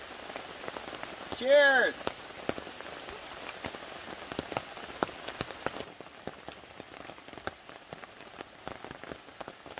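Steady rain patters on a tarp at a forest campsite, dense drops tapping continuously throughout, with a brief spoken exclamation early on and the downpour softening slightly in the second half.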